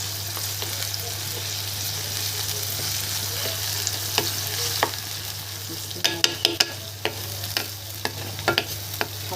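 Onions frying in a pan for Egyptian koshari, a steady close sizzle with scattered clicks and scrapes as they are stirred, and no talking.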